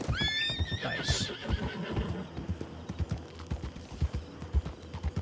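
In Red Dead Redemption 2, a horse gives a loud rising whinny and then clip-clops along with steady, rhythmic hoofbeats at close range.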